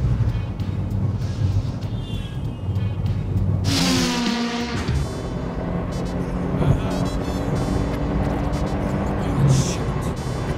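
A 20-year-old taxi roars at high speed on the road, its engine a continuous loud drone heard from inside the car. A brief whooshing pass breaks in partway through, and people talk over the noise.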